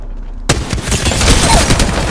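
Apex Legends gunfire breaks out abruptly after a brief lull, a dense, loud, continuous fusillade of rapid shots and impacts that fills the rest of the moment.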